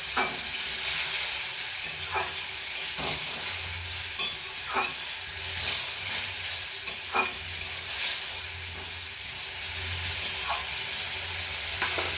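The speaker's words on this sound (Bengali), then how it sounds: "মশলা বাটি দেওয়া জলটা দিয়ে দিলাম, দিয়ে আবারও ভালো করে কষিয়ে নেব।" Spice paste for a potol aloo curry fries in a pan, a steady close sizzle broken by regular scrapes and knocks of a spoon stirring it.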